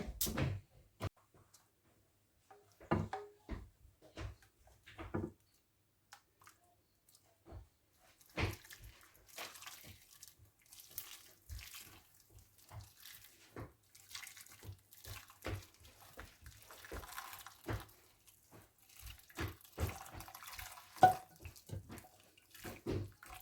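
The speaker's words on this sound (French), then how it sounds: "je viens verser mon flan. Délicatement, comme ceci." Flan mixture is poured gently into a mold, giving quiet, intermittent liquid splashes and soft clicks in a still room, with no talking.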